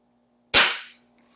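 A single sharp crack from a Beeman 1020 spring air pistol, close and loud, decaying quickly in a brief burst, with near silence before and after.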